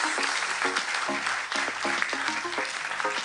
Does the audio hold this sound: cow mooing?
no